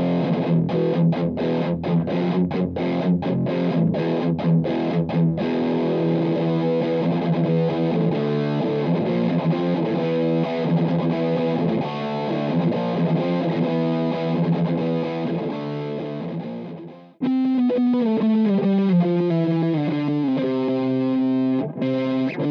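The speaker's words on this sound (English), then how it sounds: "I'm going to back off the mids and a bit of the treble, give it a bit more bass." An electric guitar played through a Wampler Plextortion distortion pedal set with scooped mids, reduced treble and boosted bass, chugging rhythmic riffs then ringing sustained chords, loud and alone.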